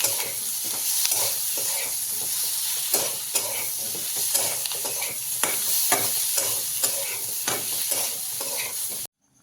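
Potato sabzi with fresh coriander stirred in a hot frying pan, a continuous sizzle broken by repeated scraping strokes of the spoon. The sound cuts off abruptly at the end.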